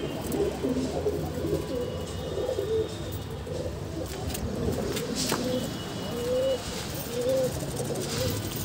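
Several pigeons coo softly and repeatedly over a busy, rustling background, with scattered clicks and flutters close by.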